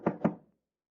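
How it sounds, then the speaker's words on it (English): Two quick knocks on a door in an old radio comedy show, close and fairly solid, with a short fading tail and no voices. "You want to answer the door, Lou, or not?"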